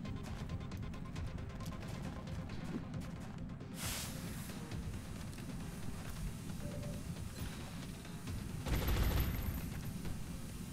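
Gunfire in XCOM Long War, a dense, continuous rattle of fusillade-like shots with a louder burst near the end, steady and fairly faint throughout.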